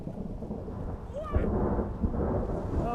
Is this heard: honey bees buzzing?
no